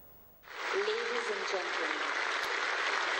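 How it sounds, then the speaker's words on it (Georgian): Audience applause in an arena at the figure skating world championship in Montpellier, a broad, steady clapping that swells in after a brief quiet moment and continues evenly, with a voice briefly audible near the start. "We ask you 1 minute of applause."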